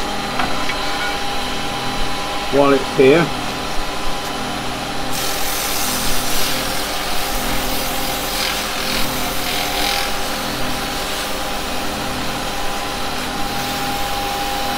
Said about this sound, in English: now I'm going to do a little bit of sanding on this